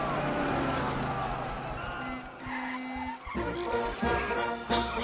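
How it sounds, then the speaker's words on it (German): A car in the Valiant Hearts game, a slow-steering vehicle driven through Paris at night, hums along with skidding tire noise and engine rumble, and someone talks over it throughout. "Das Auto lenkt allerdings recht langsam."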